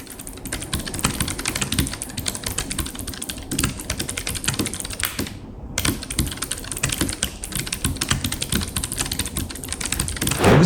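Rapid, steady typing on a Tap-Tech mechanical keyboard fitted with low-profile blue clicky switches, loud and close with dense crisp clacks and one brief pause midway, no voice.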